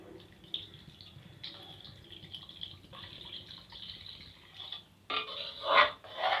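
Water poured into a pot of Tamil-style fish curry (meen kuzhambu): a faint trickle at first, then a louder splashing, gushing pour near the end, with no voices.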